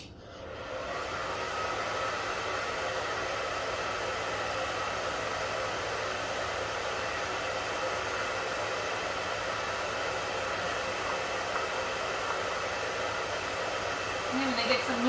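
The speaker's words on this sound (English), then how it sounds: "Okay, I'm going to turn on the hair dryer again." A hair dryer runs continuously at close range, a loud, steady whooshing drone that holds unchanged for about fifteen seconds, with a faint voice at the very end.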